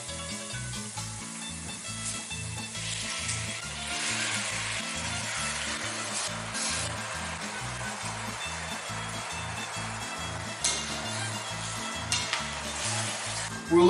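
Tomatoes sizzling in a pan with cooked garlic and onions, a steady close hiss of frying with a few light utensil knocks near the end, no talking over it.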